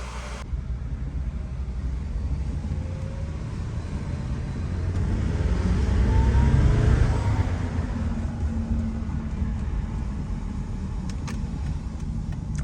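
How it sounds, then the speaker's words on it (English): Inside a Volvo S40 T5 low on fuel and in need of an alignment, heard driving up a road: a steady engine and road rumble that swells as it accelerates, then settles, with no talking. "let's take it for a little rip up the road"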